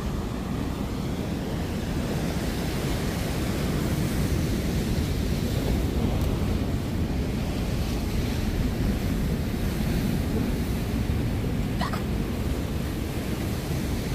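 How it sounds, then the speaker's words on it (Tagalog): Strong sea waves crash and churn in a continuous loud roar, mixed with gusty wind buffeting the microphone. "Yung alon ng dagat is sobrang lakas."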